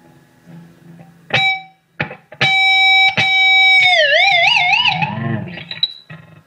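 Distorted electric guitar with sustained notes that dive and wobble in pitch, a heavy whammy-bar dive bomb with warbling vibrato, loud and alone.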